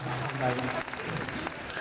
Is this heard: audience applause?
yes